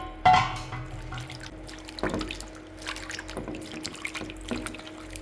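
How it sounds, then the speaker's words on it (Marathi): Mixed winter vegetables being washed together in clean water in a kitchen sink, with a splash at the start followed by soft trickling, dripping and occasional sloshing throughout, no talk. "सगळ्या भाज्या एकत्र करून छान अशा स्वच्छ पाण्याने धुवून घेऊयात."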